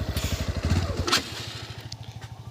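A motorcycle rides off-road near Guwahati, its engine thumping in a close, rapid rhythmic putter that briefly revs and clatters over rough ground before settling back into a steady chug, with no talking.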